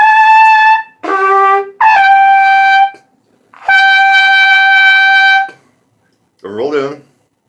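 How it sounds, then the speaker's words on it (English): A trumpet played with a rolled-in embouchure and no tongue arch sounds several forced, strained sustained notes with short gaps between them, loud and close, followed by a brief spoken phrase. "the hallmark of somebody who is not doing the tongue arch properly is a very forced and strained sound"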